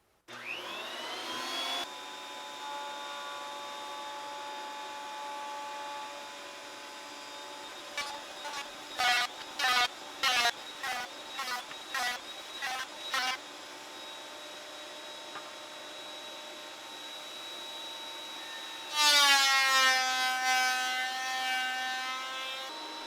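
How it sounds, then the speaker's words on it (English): Thickness planer running in a woodshop, a steady loud machine whine with a sustained tone, broken midway by a run of rhythmic bursts as wood feeds through, then a rougher, louder surge of cutting near the end. "I'm going to throw this on the thickness planer"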